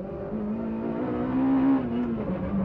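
A Citroën Saxo Kit-Car rally car's engine hums and revs from inside the cockpit, a steady mid-pitched drone that swells briefly and then eases, moderately loud with no talk over it.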